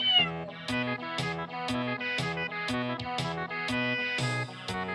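A cat meows repeatedly, about seven or eight clear, close meows in a steady rhythm, each a short rising-then-falling cry with quiet gaps between.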